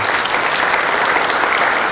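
A big round of applause from an audience honouring professors at a metallurgy and materials engineering department's platinum jubilee celebration, steady dense clapping filling the hall throughout with no voices over it.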